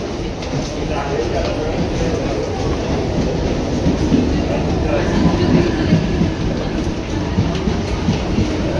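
Steady rumble of a commuter train arriving at platform 4 near Kurla station, with rhythmic wheel clatter, loud and close, with crowd chatter in the background.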